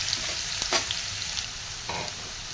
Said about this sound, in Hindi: और अब हम प्याज को पिंक होने तक पका लेंगे।